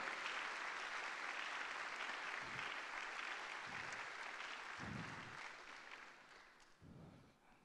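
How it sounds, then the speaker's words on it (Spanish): A church congregation claps for Christ during a Sunday service, a sustained wash of applause from a large crowd that fades toward the end, with a few low thumps. "dele fuerte ese aplauso al Cristo de la gloria"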